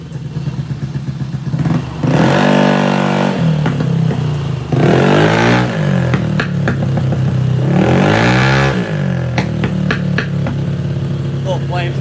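A scooter engine on a workshop test run, brake released, gives three strong revving bursts that rise and fall over a steady idle, loud and close, with throttle blips that may spit small flames from the exhaust.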